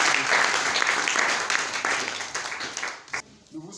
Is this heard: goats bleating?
no